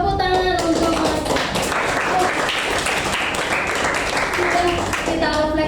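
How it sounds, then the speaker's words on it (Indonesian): A group in a classroom claps together, giving a dense, steady round of applause that carries on for several seconds, close by, with a voice heard briefly at the start and end. "Tepuk tangan untuk"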